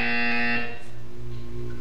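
A loud electronic buzzer from Portal 2 sounds for about half a second, a steady harmonic tone that cuts off and leaves a low hum.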